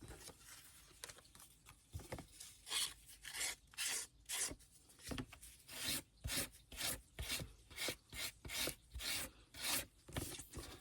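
Short, rhythmic rasping strokes rub loose fibers from the cut edge of scrapbooking paper, about twenty quick scrubbing passes in a steady back-and-forth beat, close and fairly quiet, with no talking.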